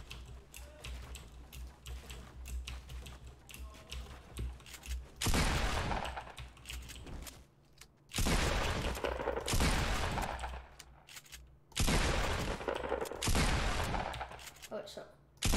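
Double pump shotgun blasts in a video game, loud broadband bursts in three paired groups with gaps of handling and reload clicks between them, over a low steady game background.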